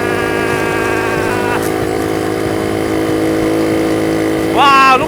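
A Honda Monkey motorcycle engine drones loudly and steadily at speed, holding a buzzing tone before a brief rise in revs near the end.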